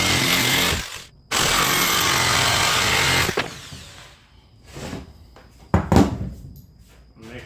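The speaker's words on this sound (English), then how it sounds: "I'm going to cut them out with the jigsaw" Jigsaw cutting wood for a woodworking tool storage cabinet: a loud, close buzzing cut that breaks off briefly near the start, then stops, followed by scattered knocks and handling noises.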